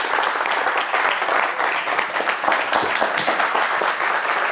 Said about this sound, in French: à travers ces applaudissements